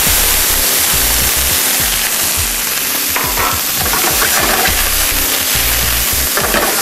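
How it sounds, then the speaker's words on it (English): Diced onions in olive oil fry loudly in a hot sauté pan, a close, dense, continuous hiss and crackle with no voice over it. "First, we're going to add some olive oil to this, and then some diced onions."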